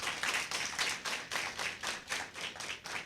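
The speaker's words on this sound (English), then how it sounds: "Can we give them a round of applause, please?" Applause for the opposition side at a secondary school debate, a small audience clapping in quick, fairly quiet bursts for a few seconds.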